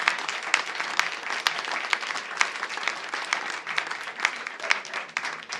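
A conference audience gives a dense, sustained round of applause, with many hands clapping evenly throughout and no let-up.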